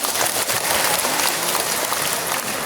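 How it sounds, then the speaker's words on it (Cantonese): Audience applause at a memorial event for the late Cantonese opera singer Lam Kam-tong, a dense, steady wash of clapping that fills the space without pause and carries no talk. "俾啲掌聲聽下。"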